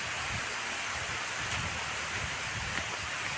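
Rain falls steadily at Daringbadi park, a continuous broadband hiss with faint patters, even and unbroken throughout, with no one speaking.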